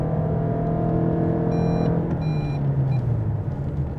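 Lexus car accelerating hard in Sport Plus mode with stability control off, an interior rumble with rising engine tone, then a few short electronic warning beeps chiming over the drone.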